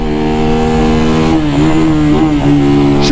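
A brand-new Missile 250cc motorcycle with a timing-chain engine, on a test ride in Jamaica, drones steadily up close with a strong harmonic engine note that shifts pitch as the throttle changes.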